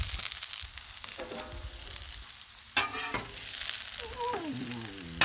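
Mushrooms and onions sizzle loudly on a Blackstone griddle in a continuous close hiss, broken by a sharp scrape or two from a spatula and some squeaky, tonal scraping near the end.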